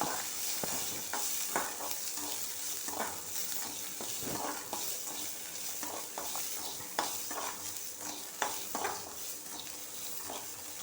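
Onion, garlic and tamarind frying in a pan for a ridge gourd peel chutney, a constant soft sizzle with frequent scraping stirs and light clinks of a spoon on the pan.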